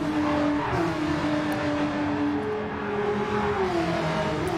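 Porsche Cup race cars howling around the Bathurst circuit, engines droning loud and continuous with rising and falling pitch as the cars push hard, no voices over them.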